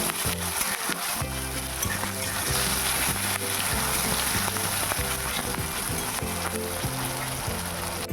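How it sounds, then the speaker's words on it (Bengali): Sliced onions fry in hot oil in a kadai for birista, a dense, steady sizzle close up that runs the whole time, with a low repeating musical tone underneath. "এখন আমি কিছুটা এতে পেঁয়াজ বেরেস্তা ভেজে তুলে রাখবো।"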